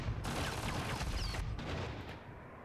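Sustained machine gun fire from a ladybug unit in the Swarm Assault video game, a dense continuous burst of rapid shots lasting a couple of seconds, loud and close, with no talking over it.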